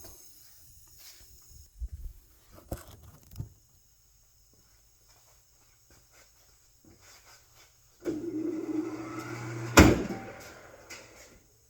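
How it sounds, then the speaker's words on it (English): Tight tire on a BMW rim stretching during mounting, with quiet creaks and scrapes early, then a sustained gritty ripping and straining noise from the tire's inner fiber lasting several seconds with a sharp loud peak, no talking. "You could actually hear the fiber of this tire inside is ripping."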